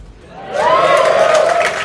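An audience at the Robinhood HOOD Summit 2025 lets out a short burst of cheering, with a loud whoop rising over the crowd noise before it fades.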